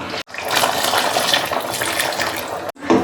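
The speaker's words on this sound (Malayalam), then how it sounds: "ജാറിലേക്ക് കുറച്ച് വെള്ളം ഒഴിച്ചിട്ട് നമുക്ക് എത്ര ലൂസ് വേണോ അത്രയും ലൂസാക്കി എടുക്കാം." Water is poured into a mixer grinder jar while making a roasted-coconut chicken curry, a steady close splashing pour lasting a few seconds before stopping briefly.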